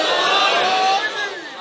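A crowd at a religious gathering shouts back in unison in response to a slogan, a loud, sustained, echoing roar of many voices that slowly fades.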